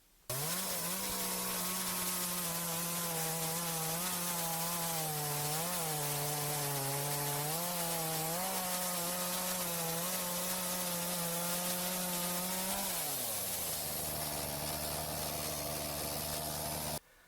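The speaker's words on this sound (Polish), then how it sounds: "Także tą pilarką przetniemy dosyć duże kawałki drzewa." Parkside petrol chainsaw running steadily as it cuts wood, a loud sustained buzzing drone with small shifts in pitch under load that drops to a lower idle near the end, heard alone with no voices.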